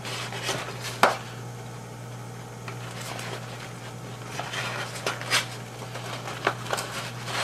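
A sharp knife chops through a handful of food on a cutting board, with one distinct crisp cut standing out among quieter, scattered knocks and taps over a steady low hum.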